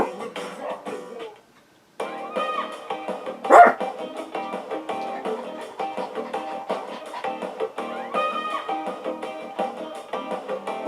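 A dog in the video game Persona 3 Portable gives one sharp bark partway through, set against steady background game music that runs throughout.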